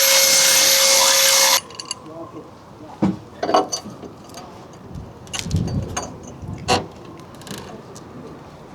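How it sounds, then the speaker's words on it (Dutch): A small hole being drilled during maintenance on a motor yacht, the power drill whining loudly for about a second and a half at the start, then stopping, followed by quieter handling knocks and clatter. "waar ik het gaatje moet boren"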